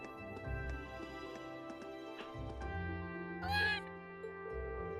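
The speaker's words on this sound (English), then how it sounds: "I feel like I've seen this cat around a lot lately." A cat meows in the Trails of Cold Steel video game, a short rising cry partway through, heard over sustained game background music with low tones and no talk.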